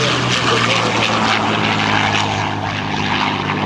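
Propeller warbirds roar past in a formation flyby at the 2007 NAS Oceana airshow, a loud, sustained droning engine sound with a low throbbing hum, heard close and continuous with faint crowd voices underneath.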